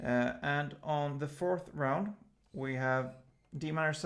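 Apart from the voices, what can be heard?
No distinct noise like a dog, phone or traffic.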